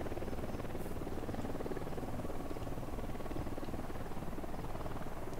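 Helicopter in the video game Ghost Recon Wildlands: a constant, fairly faint rumbling rotor drone filling the background without change, no talk over it.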